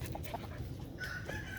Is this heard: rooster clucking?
yes